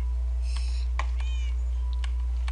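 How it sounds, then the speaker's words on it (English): A pet cat meows indoors at home during a birthday celebration, giving several short, close, clear mews in an irregular sequence with no talking over them. "Oh, there's the other kitty cat."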